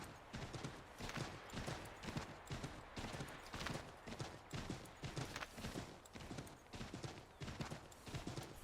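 Horse hooves in the video game Assassin's Creed III, a steady, rhythmic clip-clop of a galloping or trotting horse on a dirt path, evenly repeating beats close by and fairly quiet.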